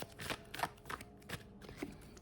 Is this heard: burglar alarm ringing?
no